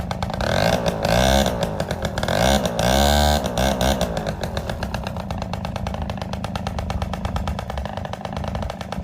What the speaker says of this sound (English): If I rev it, the light it gets brighter